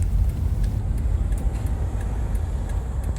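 Car on the road pulling away, a steady low engine rumble with road noise and a few faint clicks and ticks inside the vehicle, no talking.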